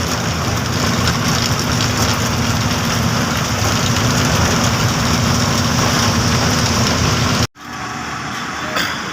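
Steady, dense rain hiss over a low idling engine rumble, then a sudden break and quieter rain toward the end.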